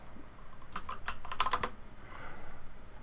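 Quick burst of keystrokes on a computer keyboard as a layer name is typed in Substance Painter, several clicky taps clustered in the middle, close and fairly quiet.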